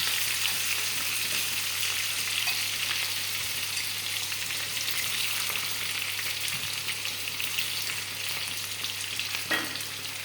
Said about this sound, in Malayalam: കടുക് വറക്കാനുള്ള ഉള്ളി വെളിച്ചെണ്ണയിലേക്ക് ഒഴിച്ചിരിക്കുന്നു